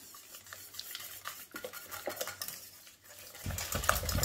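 A spoon stirring crème mousseline with butter and liquid vanilla in a bowl, soft scraping and clinking strokes in an uneven rhythm, quiet and close, with a louder scrape near the end.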